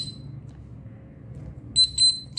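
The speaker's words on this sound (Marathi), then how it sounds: "सो ते असं वरती जाईल आणि माझेल बझर वाजेल" A homemade water level indicator's buzzer sounds in short repeated beeps near the end, two or three bursts over a low background hum.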